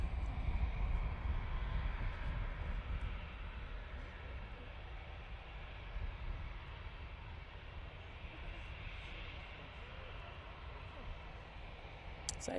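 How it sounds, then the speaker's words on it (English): An EasyJet airliner lines up for departure at Manchester Airport, its engines giving a distant, steady low rumble and whine that holds throughout. "Easyjet now lining up for its departure."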